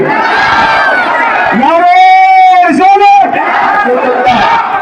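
A large crowd at a political rally roars a religious slogan back in unison. The loud, close chant swells into a sustained shout.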